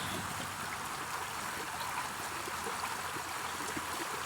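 Water flowing steadily outdoors in nature, a continuous trickling, burbling stream with a bright splashing hiss, held at an even level throughout with no voices.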